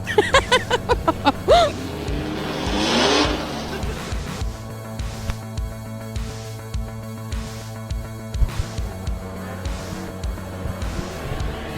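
A drift car at a Turismo Drift round in Nashville attempts a burnout: the engine revs and screams at the start, then settles into repeated rhythmic revving pulses with a steady low mechanical drone, crowd noise faintly in the background.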